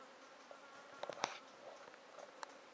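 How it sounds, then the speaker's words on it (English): Gentle honey bees at a hive used for queen rearing give a faint, low buzz with a few brief, slightly louder passes close by. "But they're nice gentle bees anyway"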